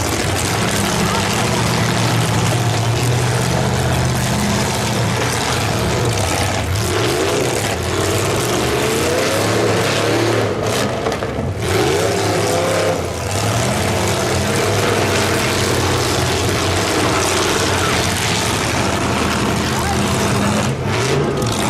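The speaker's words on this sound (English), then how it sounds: "As we have 2 truck demolition derby action carrying on the center of the ring." Full-size trucks battle at a Fall Brawl demolition derby, with loud continuous engine roar and revving filling the arena for the whole stretch, heavy and unbroken, with a few dull impact thuds buried in the din.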